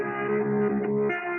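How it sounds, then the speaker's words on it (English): A melody slowed to half speed and pitched down an octave by the Cymatics Deja Vu plugin on its 1/4 setting with smoothing raised. It comes out as a short, smooth, low sustained tone with a slight dip near the end. "which is half timing the melody. So it's pitching it down an octave and making it play half as fast."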